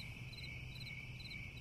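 Crickets chirp in the final scene of the game We Become What We Behold, a steady, unbroken high trill with a faint second pulsing tone above it, quiet and alone with no voices.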